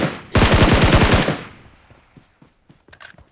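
A loud, rapid burst of automatic gunfire from a PUBG match, fired up close, stutters in fast succession for about a second before trailing off into scattered faint pops and distant shots.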